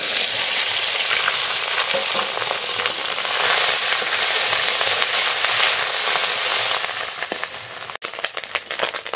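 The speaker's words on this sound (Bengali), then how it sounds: "মাছের ডিম খুব ভালো করে ভেজে নিয়েছি" Fish roe from a silver carp fries in a little oil in a pan, a loud, dense close sizzle with crackling pops that holds steady for several seconds before briefly breaking near the end, with no talk.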